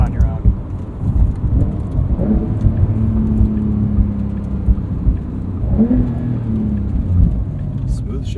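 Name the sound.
Porsche 911 Carrera S engine, gear shift and rev limiter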